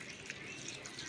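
Sweetened coconut milk is poured over freshly made paniyaram, a brief, continuous liquid splash and trickle at close range.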